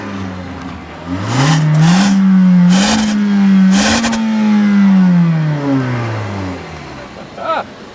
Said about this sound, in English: let me show you the growl of the 2-liter Kia Forte